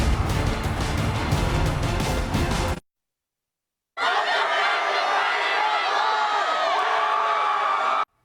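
Away crowd at a Liberty Patriots at Centennial high school football game, cheering and whooping loudly in the stands, cut off by a second of silence before the roar resumes, distant and dense.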